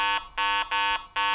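A metal detector gives four loud low-pitched electronic tones in a steady on-off pattern, each a rich harmonic buzz with a low fundamental, close and clear with brief gaps between.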